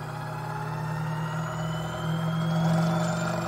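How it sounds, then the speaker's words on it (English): A stepping motor running in a voltage generation setup gives a steady, close mechanical hum with a whining tone that slowly rises in pitch as it speeds up, heard alone. "The motor used here is the motor used in my other YouTube videos, and we can see it running easily."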